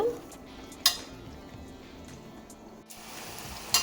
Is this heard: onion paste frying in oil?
yes